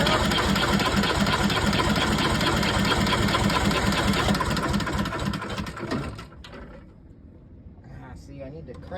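A Deutz two-cylinder air-cooled diesel on an Ingersoll-Rand DD-25 steamroller cranks and chugs loudly and steadily for about six seconds, then cuts out, leaving quieter mechanical rattles and background noise.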